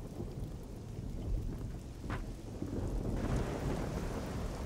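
Steady rain hisses in the game Risen 2: Dark Waters while low thunder rumbles continuously underneath. The storm is faint and distant, with the downpour thickening slightly toward the end.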